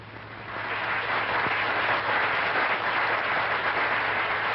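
Sustained applause fills the Congress chamber at the inauguration of Costa e Silva, a dense steady roar of many hands clapping that swells early and holds through to the end.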